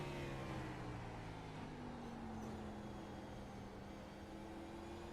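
A stock car engine drones steadily as it laps the short Martinsville oval in a racing video game, its pitch rising and falling gently through the corners beneath a dense, constant wash of noise.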